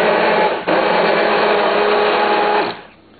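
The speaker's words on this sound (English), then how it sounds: "Just blending the chili sauce now." An electric blender whirs loudly and steadily while pureeing habanero sweet chili sauce in a small container, with a brief dip in pitch before running on and winding down to a stop.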